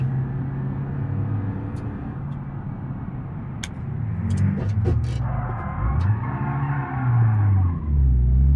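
A Fiat Fiorino commercial van in BeamNG.drive is drifting along a mountain road. The engine drones steadily and rises and falls in pitch, with a few sharp clicks and some tyre noise across the run.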